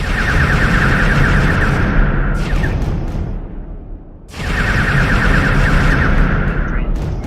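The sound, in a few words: spaceship weapon firing in video game StarMade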